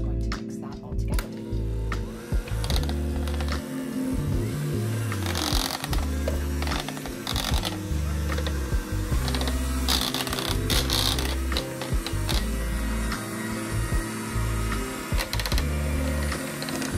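An electric mixer blends sweetener, vanilla and cream cheese for a keto ambrosia fruit salad, its motor whirring steadily and loudly at close range with rattling, grinding texture throughout.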